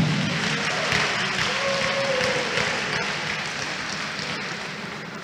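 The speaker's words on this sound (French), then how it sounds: "Je vous prie donc d'applaudir encore une fois à l'endroit de la marraine." Sustained applause from an audience at a diploma ceremony for the first graduating class of a professional nursing degree, a dense steady patter that fills the whole stretch at even loudness.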